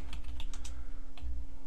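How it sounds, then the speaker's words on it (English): Keys tapped on a computer keyboard while entering text into diagram boxes in Microsoft Word 2010, a quick run of light clicks over a steady low hum, close and fairly quiet with no talking. "you can click in them and you can type"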